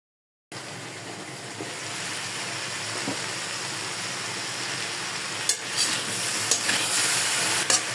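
Mixed winter vegetables sizzle softly in a pan after a moment of silence, with a few sharper clinks and scrapes of stirring toward the end, fairly quiet and close.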